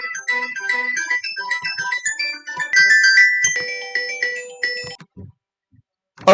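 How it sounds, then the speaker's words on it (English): A mobile phone ringtone plays a bright, repeating electronic melody for about five seconds, loud and alone with no talking, then cuts off abruptly and falls silent. "Sorry, my phone rang."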